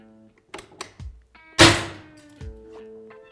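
A projectile fired at ESS CDI Max military-rated sunglasses lands as one sharp, loud impact thunk amid a few lighter clicks and knocks.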